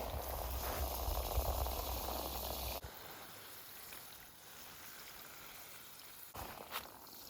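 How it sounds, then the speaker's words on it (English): Water pours and splashes onto dry dirt in a garden tote, a steady close rushing trickle that drops to a softer fizzing soak partway through, then briefly swells again near the end. "so I may give this a quick watering."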